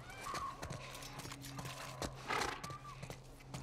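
Horse hooves clip-clop in a steady, close rhythm while a horse whinnies and snorts in The Last of Us, a low droning hum running beneath.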